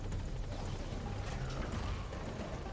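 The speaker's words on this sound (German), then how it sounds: "Aber da oben ist noch der Helikopter." A helicopter in Metal Gear Solid 5 hovers and climbs, giving a steady whirring rotor drone with a rumbling low end that stays constant throughout, with no talking.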